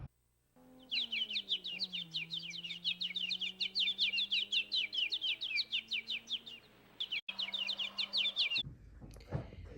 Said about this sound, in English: As we zoom in closer here, we can see there are quite a few birds.